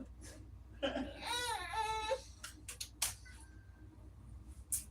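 A young child cries and whimpers in short wailing bursts, fairly close, with some breathy sobs and small noises in between.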